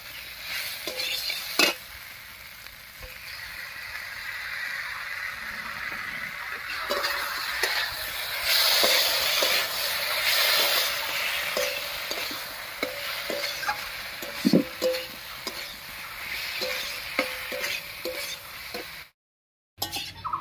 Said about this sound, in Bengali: মশলা বাটাটা দিয়ে চাল কুমড়োর সঙ্গে একটুখানি কষিয়ে নিয়েছি